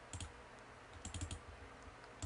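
Computer mouse clicks at a desk, several short sharp clicks in small bursts with pauses between, close and fairly quiet, no talking.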